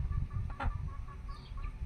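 Chickens cluck on a farm with short repeated clucks up close over a steady barnyard background, loud and without speech.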